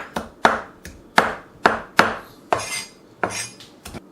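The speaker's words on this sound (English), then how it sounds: "just give the garlic a good whack, and then just chop up the garlic" A cleaver chops garlic on a cutting board in a home kitchen: a steady series of sharp knocks, about a dozen, each with a brief ringing tail, close and clear with no talking.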